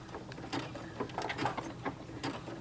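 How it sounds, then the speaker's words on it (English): Domestic sewing machine stitching a manual buttonhole, sewing a wide stitch across the top with the presser foot lowered; a quiet, steady mechanical patter of rapid needle strokes with a few ticking clicks, heard alone. "Lower the presser foot and sew the wide stitch across the top."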